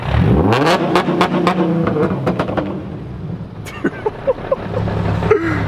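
A tuned Hyundai Genesis Coupe 3.8 V6 engine on E85 with full bolt-ons revs hard and roars past nearby, fading slightly before sharp bursts return, with brief voices mixed in.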